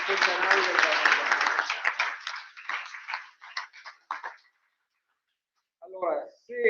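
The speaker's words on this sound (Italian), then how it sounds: "facciamo un altro applauso a tutti i centenari del Parlamento" An audience at the final ceremony of the Premio Civitas Vitae 2024 award applauds centenarians: dense clapping that thins and fades out over about four seconds, followed by silence and then a voice.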